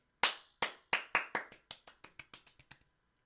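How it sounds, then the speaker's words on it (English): One person claps a dozen or so times, close and crisp, speeding up slightly and growing softer toward the end, then stops; no talking. "Round of applause for me."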